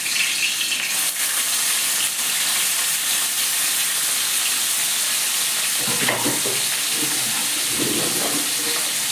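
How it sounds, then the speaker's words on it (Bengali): Half a fish head frying in hot oil for moong dal, a loud continuous sizzle with bursts of stirring and spattering in the second half. "একটা মাছের হাফ মাথাটা দিয়ে দিচ্ছি বন্ধুরা।"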